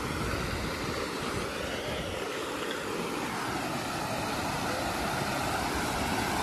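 A small waterfall in a rainy-season hillside spot near Mumbai, with children playing nearby, pours a steady, loud broadband rush of water that fills the whole stretch without pause.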